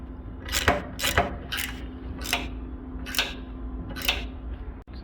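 A die is wound down in a pan brake over sheet metal for a Cosmo L10A side vent, giving six sharp, evenly spaced ratcheting clicks over a steady low hum.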